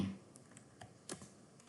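Someone types a few keystrokes on a computer keyboard, faint scattered soft clicks over a quiet background, no talk.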